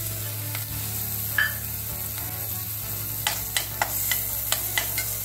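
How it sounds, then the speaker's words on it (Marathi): Garlic and ginger sauté in butter at the side of a pan for a vegetable soup, giving a soft continuous sizzle under a low hum, with a run of sharp spatula taps and scrapes near the end. "साईडला थोडंसं बटर घालून हे लसूण आणि आलं आहे ते परतून घेऊया."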